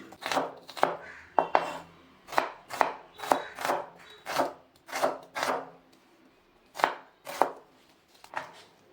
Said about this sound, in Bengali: এবার আমি পেঁয়াজটাকেও কুচি কুচি করে কেটে নিচ্ছি